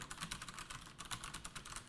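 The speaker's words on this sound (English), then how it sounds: "this is actually the DAS keyboard, and these are the Cherry MX brown switches, so they should be a little bit lighter and quieter" Rapid, steady typing on a DAS mechanical keyboard with Cherry MX Brown switches, close up, a light, fairly quiet patter of many keystrokes with no talking.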